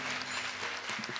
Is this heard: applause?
yes